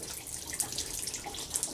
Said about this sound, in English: I hear lots of water. Oh wow. This vent right here is leaking.